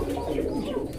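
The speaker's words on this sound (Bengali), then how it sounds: "এখানে 2 পিস সিঙ্গেল কবুতর আছে" Fancy pigeons coo in a steady, low murmur at close range, a few birds layered together with no voices over them.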